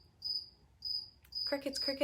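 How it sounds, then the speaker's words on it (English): Crickets chirp in short repeated bursts at 6:30 in the morning, heard from a garage, close and fairly faint, with a second insect trilling in quicker pulses near the end. "Crickets are going."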